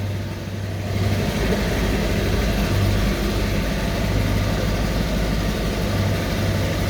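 A Mercedes E63s V8 idles steadily while warming up, a deep continuous rumble with a low throb that stays even and close throughout, no voices.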